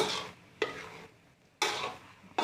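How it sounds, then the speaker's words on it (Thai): Minced pork being stirred and fried in a pan for Thai khua kling, with a steady sizzle broken by bursts of spoon scraping at a regular rhythm, close and moderately loud, no voices. "เราก็ต้องคนให้มันแห้งกว่านี้ ผัดให้แห้งกว่านี้"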